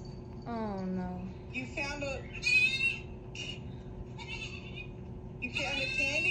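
Farm goats bleat in several wavering, nasal calls, some short and some drawn out, close and fairly loud, with people talking around them.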